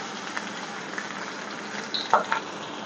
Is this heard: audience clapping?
no